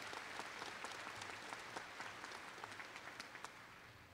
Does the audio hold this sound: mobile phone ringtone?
no